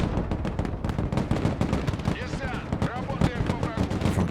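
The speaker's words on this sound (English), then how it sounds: "They are now taking fire again." Sustained gunfire rattles around paratroopers in the Broken Arrow video game, with dense overlapping shots and distant booms filling the whole stretch. Whistling tones and battlefield noise mix in, loud and continuous.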